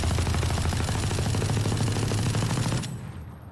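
An LMG in a first-person shooter fires through a wall as one long, rapid, loud burst of automatic gunfire that stops abruptly near the end and leaves a brief fading tail.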